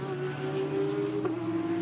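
A GT race car at the Nürburgring during a GT World Challenge Europe pre-qualifying session, heard as a steady, distant engine drone with no clear revving peaks.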